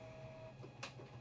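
A Canon G1010 inkjet printer runs while printing a name tag, giving a faint steady mechanical hum with a brief whirring burst partway through.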